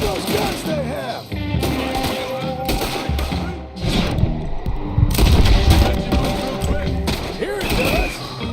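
Gunfire and battle noise in the video game Red Dead Redemption 2, loud and continuous with repeated shots and booms layered over game music and voices.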